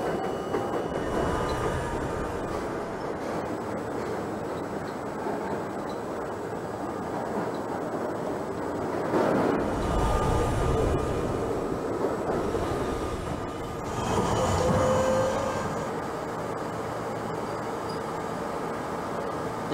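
A New York City Subway J train rolling along the Myrtle Avenue elevated line in Trainz Simulator 2012, a steady close rumble of wheels and carriages that swells twice, with no one talking.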